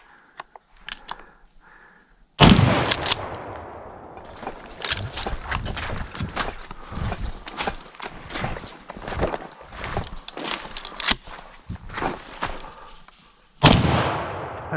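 During a hog hunt on public land, a single loud, sharp gunshot cracks out near the start, followed by rustling and movement sounds and another sharp bang near the end.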